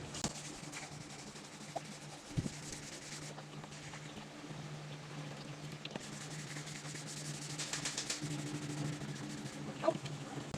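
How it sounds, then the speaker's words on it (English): Wet sander working the paint on a 1972 VW Super Beetle: a faint, continuous rubbing and scrubbing texture with a low steady hum and a few small knocks, heard close and quiet. "I'm gonna try and sand it out with the wet sander."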